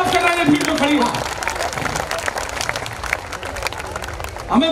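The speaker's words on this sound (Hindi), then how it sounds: "तालियां" Audience applause and crowd noise at an outdoor Hindi poetry gathering, part of a municipal Diwali fair in Udaipur, steady and dense for several seconds with voices mixed through it.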